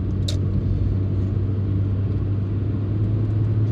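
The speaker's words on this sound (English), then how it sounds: "You can hear that Honda D series engine there." A Honda D series car engine accelerating, droning steadily from inside the cabin, a low rumbling hum that holds even throughout, no talking.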